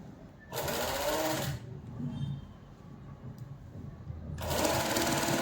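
A sewing machine stitches a blouse sleeve seam in two short, fast, whirring bursts, each about a second long, with a quiet pause of fabric handling between them.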